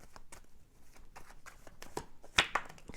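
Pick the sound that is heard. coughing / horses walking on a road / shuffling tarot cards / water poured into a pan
shuffling tarot cards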